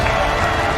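Crowd applause and cheering greet the 2024 eChampions League winner, a 19-year-old player named Jonny, in a steady, dense wash of clapping and crowd noise across the short moment.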